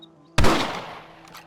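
A single rifle shot in the Red Dead Redemption video game cracks out loud and sharp after a quiet, humming lead-in, then rings away in a long fading tail.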